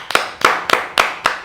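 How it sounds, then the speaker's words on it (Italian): A single person claps five times in a slow, even rhythm, each sharp crack close and distinct with a short ring-out before the next. "Signori, applausi"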